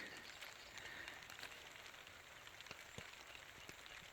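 Steady rain drums on a tent fabric at a riverside camp on a canoe trail, a continuous close patter with occasional louder individual drops.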